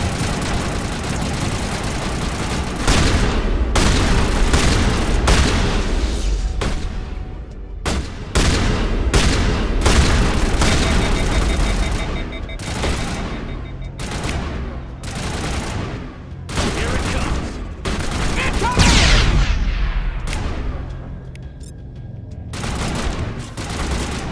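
Turret gunfire in the Mass Effect video game comes as repeated bursts of heavy shots and blasts, with rapid volleys separated by short gaps and a low engine rumble underneath.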